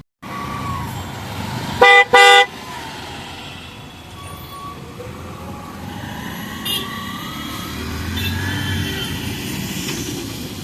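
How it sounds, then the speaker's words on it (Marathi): Road traffic heard from inside a full-AC bus on the Mumbai to Ratnagiri route, with a steady engine and road rumble and a loud double horn blast near the start, then a fainter honk later. "सारखं सारखं ट्रॅफिक लागतं इथं"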